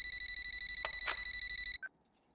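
A telephone rings with a rapid, steady pulsing electronic trill, moderately loud, then cuts off abruptly as if answered, leaving a short click and near silence.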